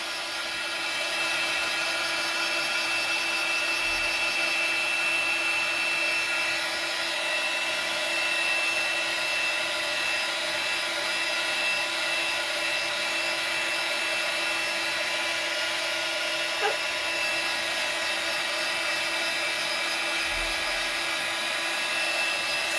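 Handheld dryer blowing over a freshly painted winter-themed coffee mug, a steady whirring motor hum with a hissing airflow running unbroken for over twenty seconds, with a couple of faint low bumps.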